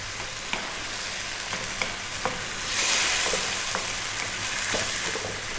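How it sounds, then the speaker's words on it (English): Crushed tomatoes simmer with sausage pasta in a pan, a steady low sizzle broken by occasional spoon scrapes and clinks as the mixture is stirred every so often, with a brief louder bubbling surge midway. "Again, 5 to 6 minutes this time, stirring every now and then."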